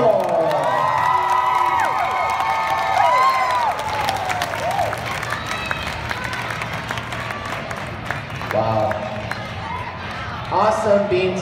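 An arena crowd at gymnastics beam awards cheers and applauds loudly and continuously, with children's shouts and an announcer talking over it, then a fresh burst of cheering near the end.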